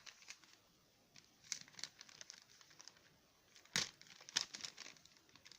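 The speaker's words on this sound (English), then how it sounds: "I sliced the tape carefully." A knife slicing through packing tape on a PC component box, quiet crinkling and tearing with a few sharper crackles, the loudest near the middle and end.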